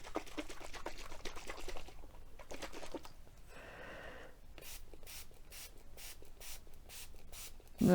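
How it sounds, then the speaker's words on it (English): Repeated short hissing sprays from a spray bottle, several quick bursts in a steady rhythm, close and fairly quiet, with some rubbing and scratching before them. "I'm going to give this lots of spritz, lots of sprays"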